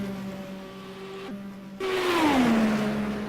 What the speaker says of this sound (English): listen to these actual cars, it's a very, just beautiful sound, it really is